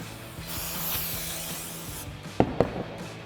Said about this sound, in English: So we're going to take our brake clean and spray it over the surface.